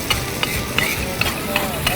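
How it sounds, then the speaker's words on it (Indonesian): Ground yellow spice paste fries in a wok, giving a steady sizzle with a series of short, regular scraping knocks as it is stirred. Voices talk faintly in the background. "Bumbu yang udah Ibu haluskan, saya masak terlebih dahulu ya"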